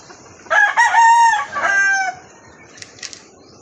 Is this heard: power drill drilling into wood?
no